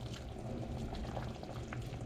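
Water boils in a pot for rice and beans, a soft low bubbling and rumble at fairly low volume, steady across a brief stretch without speech.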